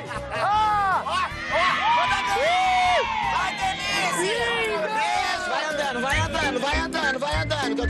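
A loud crowd shouts, whoops and cheers continuously at a drag queen event, with high excited voices and children's shrieks rising over dense chatter throughout.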